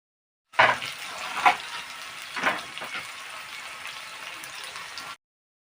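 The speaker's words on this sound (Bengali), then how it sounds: "ভেন্ডিগুলো এইভাবে আমি নাড়াচাড়া দিয়ে ভাজা করে তুলব" Okra fries in mustard oil with a soft, steady sizzle, broken by three or four brief scraping swells as it is stirred. Nobody speaks.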